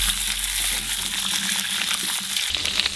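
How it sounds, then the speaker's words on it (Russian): Potatoes sizzle and crackle vigorously in a pan over maximum heat, a loud, continuous frying hiss close up. "картошечку мы жарим на максималке"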